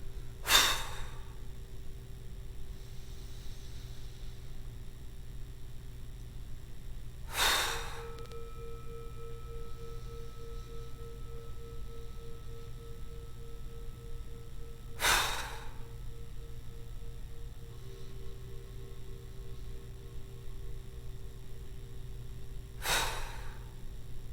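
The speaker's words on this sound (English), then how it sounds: "Gradually breathe out. Now explode, breathe out." During a kung fu breathing exercise, four forceful, explosive exhalations burst out at roughly even intervals of about eight seconds, each short and sharp over a quiet background with a faint steady tone.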